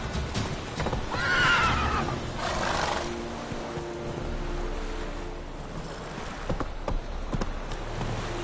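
A horse in The Witcher III neighs loudly and gallops, its hooves clip-clopping steadily under game ambience with a few sharper thuds near the end.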